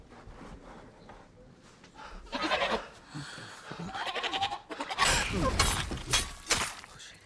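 Goats bleat loudly and repeatedly, with harsh, wavering cries overlapping and building in intensity, accompanied by some rough clattering noise.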